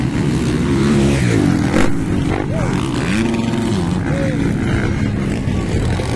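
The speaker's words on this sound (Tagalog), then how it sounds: "Wow, bagong-bagong motor mga idol." A brand-new dirt bike engine racing in the Pro Open heat of a Valencia City motocross event, loud revving and roaring with rising and falling pitch, while a commentator talks over it throughout.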